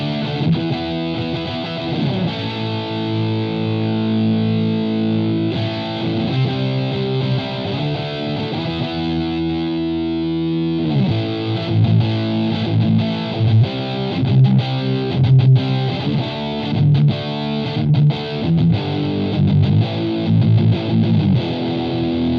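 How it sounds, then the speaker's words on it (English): Heavily distorted electric guitar plays chugging, gain-saturated chords and riffs through a Twinote Boogie tube amp, loud and sustained, with tighter palm-muted bursts toward the end. "So we're into that really tight kind of focused distortion."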